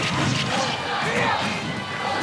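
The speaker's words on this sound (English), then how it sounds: "The crowd of Pokemon Stadium chanting Roy's our boy, the hallowed Smash chant coming out" A tournament crowd at a Super Smash Bros. Ultimate grand final chants "Roy's our boy" in a big, dense, roaring wash of voices that continues without a break, loud and reverberant.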